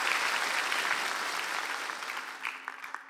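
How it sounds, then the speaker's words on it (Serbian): A TV studio audience on a music show breaks into applause that starts full and gradually fades out, with a few scattered claps and faint voices at the tail. "molim, aplauz"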